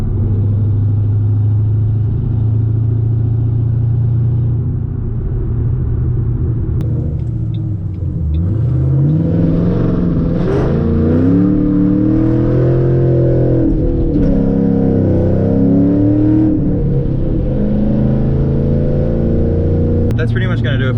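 A Ford Mustang with an exhaust leak from a badly refitted mid pipe idles loudly, then its engine revs up and down in repeated rising and falling sweeps, close and raspy throughout.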